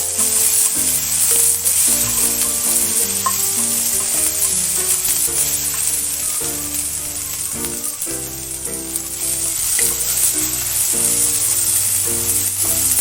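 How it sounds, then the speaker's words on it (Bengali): Green peas stirred in a little hot olive oil in a kadai, giving a steady, even sizzle with occasional soft stirring scrapes, heard under continuous background music. "এবার মটরশুঁটিটা দিয়ে দেবো। হালকা নেড়ে নেব।"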